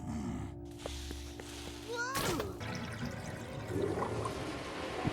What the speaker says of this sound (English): People keep flushing their washers and TVs down the drain for some reason.